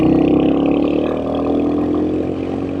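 A Royal Enfield Hunter 350 motorcycle engine pulls hard under acceleration, a loud, steady, close engine drone with a rich rising tone as it climbs through the gears, and no voices.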